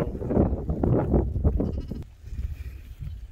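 Dorper sheep bleat in a livestock pen, a cluster of close, loud overlapping bleats for about two seconds followed by quieter animal sounds.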